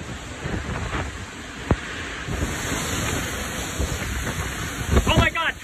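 Strong storm wind during an Iowa storm roars steadily throughout as broad rushing noise with microphone buffeting, while a person exclaims loudly in the foreground and louder gusts rise near the end.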